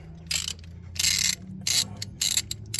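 A ratchet loosens an alternator bolt on a 2007 BMW 650i, four quick bursts of clicking pawl strokes with short pauses between, close up and with no talking.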